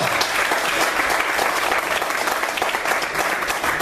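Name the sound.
congregation applause in church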